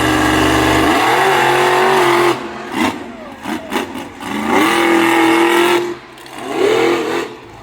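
Monster truck engine at a racing event in Swedesboro, New Jersey, loud and close, holding a high roar, dropping off between sharp bursts, then revving back up in repeated surges.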